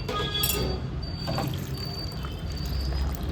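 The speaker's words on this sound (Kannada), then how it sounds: "ನೀರು ಸೇರಿಸ್ಕೊಳ್ಳೋಣ." Water pours into a mixer jar holding cut beetroot pieces for blending, a continuous close splashing gurgle that stays steady and moderately loud for a few seconds with no talking.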